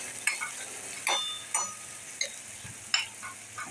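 A spoon stirs spices and a ground ginger, chili, garlic and coriander masala paste in a frying pan for a dried bombil and potato curry, with sparse scraping clicks over a faint, soft sizzle and no talking.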